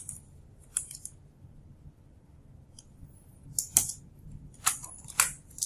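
Scattered clicks of computer keyboard typing, sparse at first and then a quicker cluster of sharp keystrokes near the end, close and fairly quiet over a low background hum.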